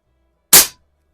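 A single sharp crack from an Air Venturi Alpha compact regulated air pistol firing, a brief near burst that cuts off quickly into silence.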